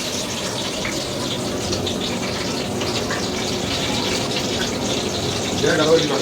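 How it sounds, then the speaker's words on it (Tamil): A whole packet of liquid is poured into a pot for Ambur-style chicken biryani, giving a continuous close gushing pour that swells slightly near the end. "அதனால் ஒரு முழு பாக்கெட்டையும் நம்ம உள்ளே ஊற்ற போகிறோம்."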